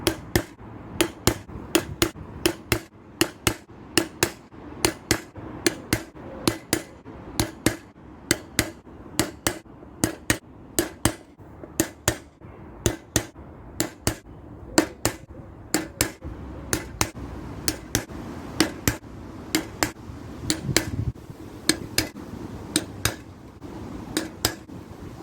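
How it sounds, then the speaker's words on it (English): Sharp metallic taps of a centre punch struck with a hammer, marking hole positions on metal front panels, repeating steadily at roughly one blow per second for the whole stretch, close and distinct with no talking. "so that's all the holes centre punched"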